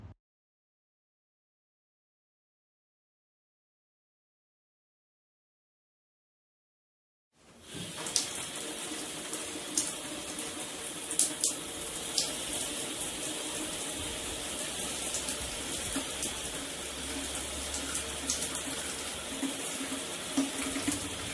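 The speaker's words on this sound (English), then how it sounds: "Next, she has a shower." A shower sprays water in a steady, full hiss that begins abruptly after several seconds of silence and then runs on evenly at close range.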